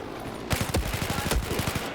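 Rapid gunfire from a gun in a shooter video game bursts out after a short quiet start, with several quick sharp shots in a tight rhythm followed by a few more spaced reports, fairly close and loud.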